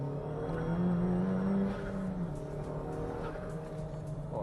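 A Honda Civic Type R engine hums steadily and close, with a rising tone that swells, then settles into a lower, even drone as the car drives on.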